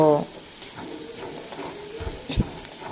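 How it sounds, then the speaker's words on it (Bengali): Chopped onions frying in oil for a prawn curry, a soft sizzle with a few stirring clicks and knocks, opening with a brief tonal beep, close and fairly quiet with no talking. "বাকি রান্নার জন্য ওই তেলেই এড করে দেব কুচিয়ে রাখা পেঁয়াজ দিয়ে পেঁয়াজটা বেশ নরম করে ভেজে নেব"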